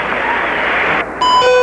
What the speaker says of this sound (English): There's the bell. The first round is over.